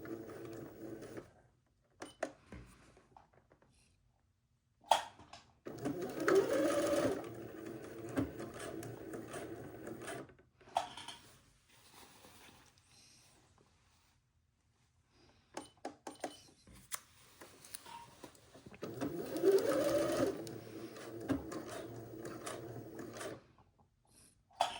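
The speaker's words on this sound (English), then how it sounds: "I have top stitched all the way along, completely around" A domestic sewing machine top stitching an Eton suit runs in faint, intermittent bursts of whirring and mechanical clatter, with quiet pauses between stretches of stitching.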